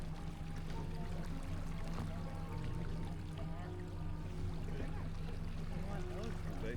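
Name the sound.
motorboat cruising on the Fulton Chain of lakes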